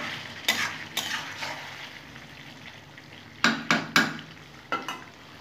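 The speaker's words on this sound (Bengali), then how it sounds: "নাড়িয়ে দেবো।" Chicken frying in ghee is stirred in a pan, with a steady sizzle underneath and several sharp utensil scrapes against the pan in bursts, close and fairly loud.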